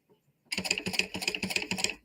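A sewing machine stitches fabric, likely a back stitch on an appliqué garment, in one quick, even burst of rapid mechanical pulses lasting under two seconds, close and clear, with no talking.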